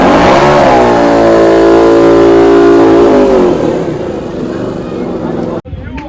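Two-stroke motorbikes at a drag race meet, a loud close engine rev climbing and holding high before easing off and cutting out abruptly near the end.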